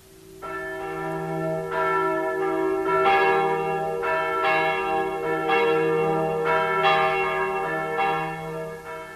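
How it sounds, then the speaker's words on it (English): Church bells of the Holy Sepulchre Church in Jerusalem peal loudly and steadily, with repeated overlapping strikes ringing out in a continuous resonant wash with no voices. "the bells of the Holy Sepulchre Church affirm the holiness of Jerusalem for Christianity"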